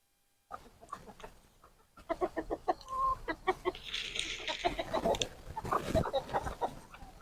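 Chickens cluck in a steady, busy stream of short calls, close by, with occasional louder squawks.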